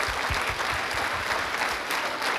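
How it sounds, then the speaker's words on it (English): Children at a school farewell clap together for the juniors, a dense, steady round of applause filling the room at close range. "you should give a good applause to them"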